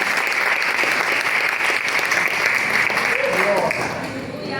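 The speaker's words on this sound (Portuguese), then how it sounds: "Aplauda ao Senhor bem forte." A church congregation at a family worship service claps loudly for the Lord, a thick, continuous roar of hands that eases slightly toward the end, with a few voices in the background.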